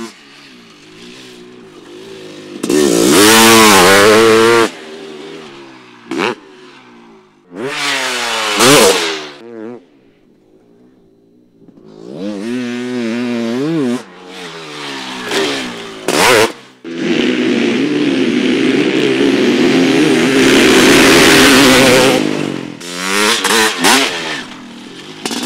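A YZ/CR500 fuel-injected two-stroke dirt bike ridden at full throttle, loud raspy engine blasts rising and falling in pitch through repeated revving bursts, with quieter gaps between passes and a long sustained howl near the end.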